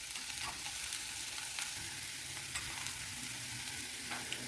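Chickpeas frying in oil while being stirred, a dense, steady crackling sizzle close up with occasional light scrapes of the spoon, no talking.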